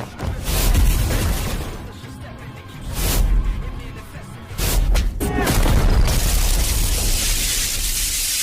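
Heavy explosion effects in a Gojo vs Sukuna Jujutsu Kaisen fan-animation fight: several loud, booming blasts with rushing debris noise, one after another, filling the mix.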